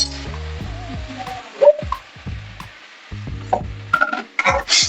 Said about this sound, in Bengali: তেঁতুলের গোলাটা দিয়ে দেবো।